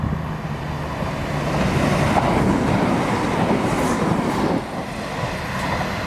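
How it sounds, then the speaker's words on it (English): Two Turbostar diesel passenger trains pass at South Gyle station at the same time, a sustained rumbling rush of engines and wheels with some clatter, loud and near. "we've got 2 turbos coming simultaneously"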